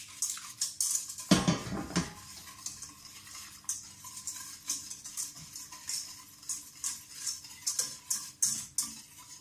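A spoon stirs ginger cake batter in a pot to dissolve the sugar, with light repeated scrapes and clinks against the metal, one louder clatter near the start, then a steady soft rhythm.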